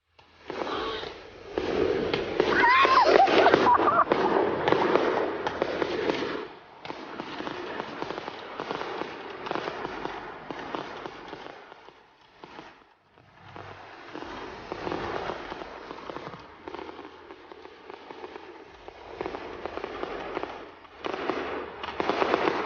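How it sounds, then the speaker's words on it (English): Fireworks going off in a TV show scene, a long run of crackling bursts and pops at moderate level with no music, the sound swelling and fading in waves over about twenty seconds. "And then there's this extremely awkward fireworks scene."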